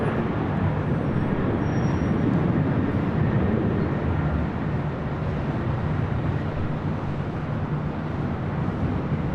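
A Delta Airlines Boeing 767-300ER jet at LAX, a loud, steady broadband engine roar that holds close and constant throughout with no talk.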